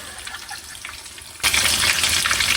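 Crispy chicken cutlet (costoletta) frying in a pan with oil, a steady broadband sizzle that grows suddenly louder partway through, close and continuous with no talking.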